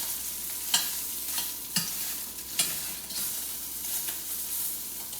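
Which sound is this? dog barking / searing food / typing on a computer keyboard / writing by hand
searing food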